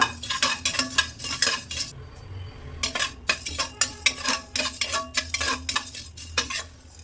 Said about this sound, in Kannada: ಇಷ್ಟು ಧನಿಯಾ, ನಮ್ಗೆ ಎಷ್ಟು ಬೇಕಷ್ಟು ಧನಿಯಾ ಹಾಕೊತಾ ಇದ್ದೀನಿ. ಇದನ್ನ ಫ್ರೈ ಮಾಡ್ಕೊಳ್ಳೋಣ.